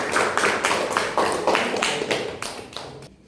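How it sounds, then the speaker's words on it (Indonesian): Applause from a small classroom audience after a group presentation at a university, heard as rhythmic, fairly close claps in synchronized bursts that fade toward the end, with no talk. "Berikan dulu tepuk tangan."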